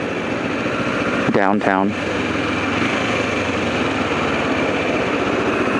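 A motorcycle idles in town with a steady, close, even drone throughout, and a voice talks briefly over it near the start.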